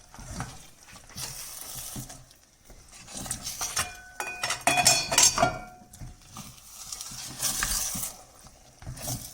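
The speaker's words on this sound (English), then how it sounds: "Lower the flame and let it cook for a while. Make sure you stir occasionally so that it doesn't stick onto the pan." Upma cooking in a pan on low flame, with a soft sizzle broken by spoon scraping, stirring and metallic clinks against the pan, near and intermittent, no talk.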